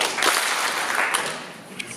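A lecture audience at a skeptics' conference applauds in a burst of mixed clapping that starts full and tapers off over about two seconds, with a few stray claps at the end.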